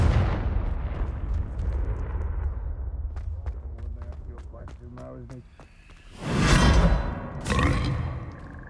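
Confringo fire spell from the video game Hogwarts Legacy, a pair of loud blasting booms near the end, preceded by rumbling game ambience and scattered sharp clicks and effects.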